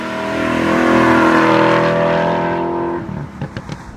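A 4.7-litre V8 sports car engine making 450 horsepower revs hard and close toward high rpm, a loud, steady harmonic roar that drops off sharply near the end.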